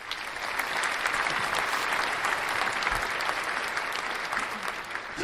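Sustained applause from a crowd, a dense steady wash of clapping hands that holds at an even level throughout.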